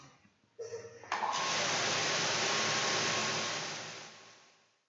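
Oscillating cleaning spray nozzle used for food industry cleaning, starting with a short burst and then settling into a loud, steady broadband hiss of spraying water that slowly fades toward the end.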